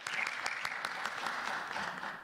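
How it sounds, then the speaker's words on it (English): Audience applause at a world congress of community volunteers supporting offender reintegration, a steady dense clapping that holds at moderate level for the whole stretch without talk. "Sunthornkajit a round of applause."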